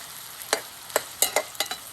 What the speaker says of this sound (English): Fryers. Sizzling.